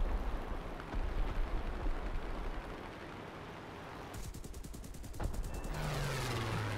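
Corsair F4U-1C cannons fire in War Thunder: a rapid, dense stream of gunfire bursts over a constant engine drone, ending with a sustained mechanical whine.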